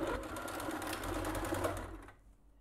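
A sewing machine stitches a beach towel edged with pompom trim, its steady close motor whir running continuously before cutting off near the end.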